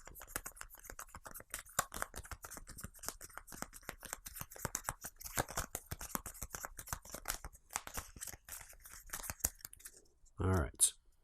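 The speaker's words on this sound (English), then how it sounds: "Get those 2 and shuffle." Playing cards from a GI Joe deck-building game are shuffled close up, a long run of dense papery riffles and taps lasting several seconds, followed by a brief voice at the end.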